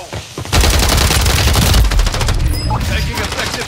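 Rapid automatic gunfire in Call of Duty Warzone solos, a loud sustained burst of shots after a brief quieter start, tailing into scattered fire with faint game voice.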